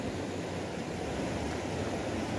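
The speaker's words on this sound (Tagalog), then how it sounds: "Ang alon." Water waves and current at night during a fishing trip, a steady close wash of surf with rushing, noisy texture that runs evenly throughout, with no voices.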